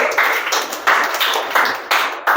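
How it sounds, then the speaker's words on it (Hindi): Hands clapping in unison at a Hindi reading lesson, arriving as loud bursts of claps roughly every two-thirds of a second, about four waves in total, with no talking over them. "ताली बजाएं, ताली बजाएं आप लोग।"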